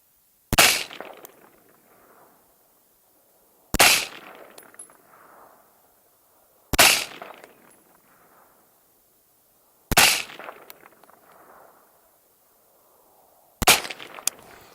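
AR15 rifle fitted with a VKTR VK-1 gas piston upper firing five single shots outdoors at a 50-yard target, each sharp loud crack followed by a short echo, spaced about three seconds apart.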